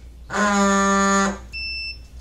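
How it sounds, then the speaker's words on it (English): A dog training collar gives a loud electronic beep once for about a second, followed by a brief higher-pitched tone, close by in a quiet room. "right after I hit vibrate, I hit beep"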